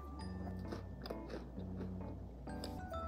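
Crisp bites into a tiramisu cookie with a crunchy cocoa-dusted shell and a dense fudgy center, several sharp crunches spaced through the moment with soft chewing in between, close to the mic over steady low background.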